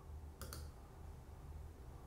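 A computer mouse gives two quick, close clicks on a menu bar, then quiet with a low hum in the background.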